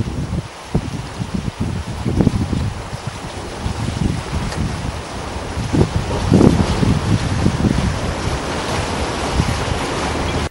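A stormy sea off Ischia churns with crashing waves and gusting wind, a dense, roaring wash of surf and buffeting microphone wind that runs continuously without any talk.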